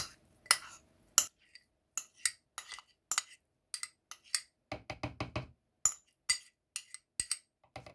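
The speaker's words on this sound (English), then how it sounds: "I'm now going to add in my chia seeds that are freshly soaked." Soaked chia seeds spooned into a smoothie blender jar, heard as a series of sharp clinks and taps of a spoon against the container, irregular and close, with brief scraping bursts and silence between.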